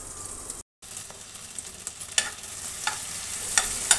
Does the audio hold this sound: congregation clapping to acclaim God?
no